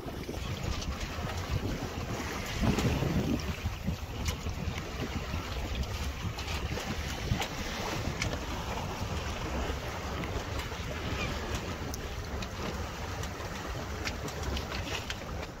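A sailboat under way on the River Lynher at just under 5 knots, with constant wind buffeting the microphone and a steady wash of water along the hull, close and continuous throughout.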